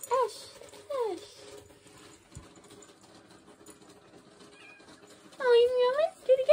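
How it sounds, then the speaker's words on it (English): A cat meows close by indoors: a short rising-and-falling meow near the start, then a longer, louder cluster of meows toward the end, with quiet room sound between. "Oh, you meowing? Do it again."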